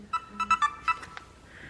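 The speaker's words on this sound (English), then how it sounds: "And I need to silence my phone." A phone ringtone plays a short melodic run of bright beeping tones, several quick notes in a rising-and-falling pattern, fairly close and clear with no talking over it.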